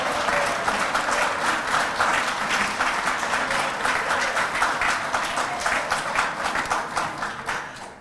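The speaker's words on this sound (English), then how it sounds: "the crowd is supposed to cheer and applaud" An audience at a tech presentation applauds loudly and continuously, with dense clapping that tapers slightly toward the end.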